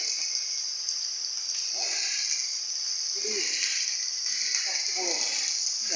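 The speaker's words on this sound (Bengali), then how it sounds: "এখানে বৃষ্টি হচ্ছে অনেক জোরে বৃষ্টি হচ্ছে দেখেন" Heavy rain pours down in Khalishpur, Khulna, a dense steady hiss that fills the whole scene, while someone talks intermittently over it.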